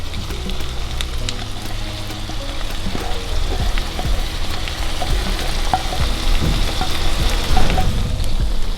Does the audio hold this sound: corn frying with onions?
yes